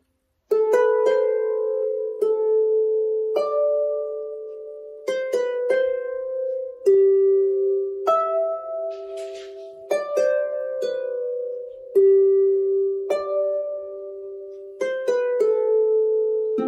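Manx harp plucks a short lesson phrase, single ringing notes stepping up and down with a few octave leaps, clear and close, sustained tones overlapping with nobody speaking.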